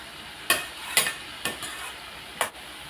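A cluster bean masala stir-fry is turned over in a pan with a spoon, giving four or five distinct scraping strokes at irregular intervals over a faint steady sizzle, close and fairly quiet.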